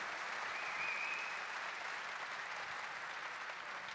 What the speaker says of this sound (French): je vous demande d'applaudir Youssou N'Dour